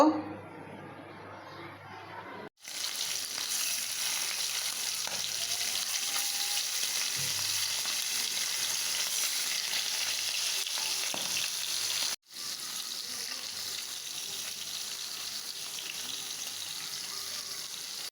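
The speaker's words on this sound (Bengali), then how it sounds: "তো হালকা ভাজা দিয়ে রান্না করুম মাছগুলো" Oil sizzles steadily in a pan as hilsa fish fry lightly, a crackling, continuous fry close up, briefly cut off twice before resuming.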